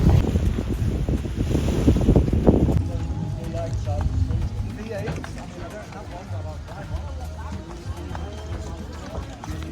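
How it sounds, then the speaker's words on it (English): Speedboat ride off Koh Samui, Thailand, with steady engine rumble and heavy wind buffeting the microphone, loud and constant throughout, with some voices faintly underneath. "So now we are going back to our speedboat"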